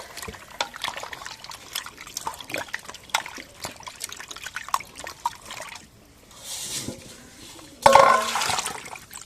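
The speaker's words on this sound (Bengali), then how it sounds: "মাংসটা আর একবার ধুয়ে নিই" Chicken meat being washed in water: sloshing, trickling and splashing as pieces are rinsed by hand, with a loud pour of water near the end, nearby and unbroken by talk.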